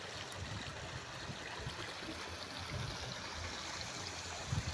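Narayan Khola river water flows steadily in its low winter channel, a continuous broadband rush and gurgle of a clean stream heard alone from nearby.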